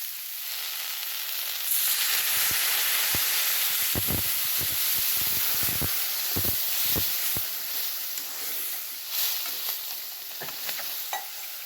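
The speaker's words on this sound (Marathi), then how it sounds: "आणि आता आपल्याला जेवढा रस्सा पाहिजे तेवढं पाणी ॲड करायचं।" Water hits hot roasted spices, chutney, turmeric and salt for a pavta amti curry, bursting into a loud, close hiss with rapid stirring knocks that settles into a softer steady sizzle.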